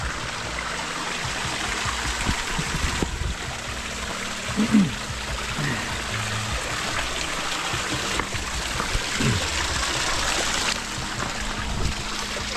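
Steady rushing and trickling of a small creek near Lake Berryessa's Blue Ridge Trail, continuous broadband water noise close by, with faint low rumbles and occasional knocks.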